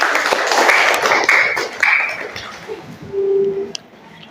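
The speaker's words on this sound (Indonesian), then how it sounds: "oke, tepuk tangan." A classroom group claps hands, a dense patter of applause for about two and a half seconds that tapers off, followed by quieter room sounds and a brief ringing tone.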